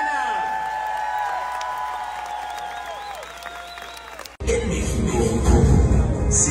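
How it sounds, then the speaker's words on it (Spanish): An audience breaks into loud applause and cheering for Silvana at a live event, starting abruptly after a stretch of quieter background sound and continuing steadily to the end. "Así que un aplauso a Silvana."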